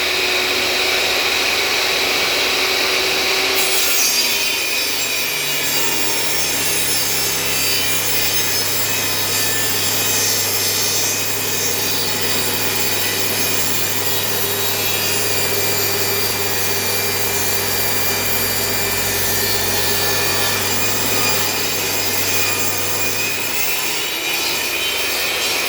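A power saw rips along a length of wood, a loud, steady whining cut with a constant low motor hum that holds for over twenty seconds before easing off near the end.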